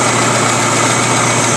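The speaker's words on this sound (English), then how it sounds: "Alright, so the engine's now warmed up. The choke is now open." A small engine idles steadily after warm-up with its choke open, a constant close-up drone with light vibration running unbroken throughout while a carburetor is being adjusted.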